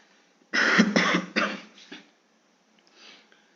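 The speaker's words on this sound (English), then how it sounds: "I have some little cough here" A burst of several harsh coughs and throat clearing up close, then a faint trailing breath after a short silence.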